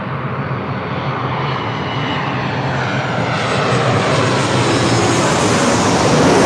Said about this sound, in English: This is Delta Airlines 1530 coming in from Seattle on a 737-800.